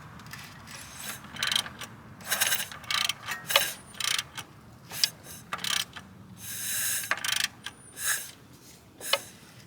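Ratchet wrench hand-turning the engine of an MK6 Jetta GLI, giving a run of close clicking pawl bursts in irregular strokes with short pauses between, clear and alone.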